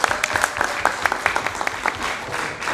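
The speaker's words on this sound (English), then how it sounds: "Round of applause for Mary Lou." Conference crowd giving a round of applause for a board member at a healthcare advocacy annual meeting, crisp individual claps standing out at first before settling into a softer, thinning patter.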